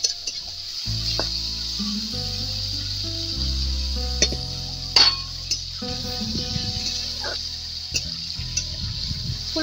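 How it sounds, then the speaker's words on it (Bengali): Cauliflower florets frying in a pan give a bright steady hiss, with low tonal hum and occasional utensil clinks close by, and no talking. "ফুলকপিগুলো আমি একটু লাল লাল করে ভেজে নেব"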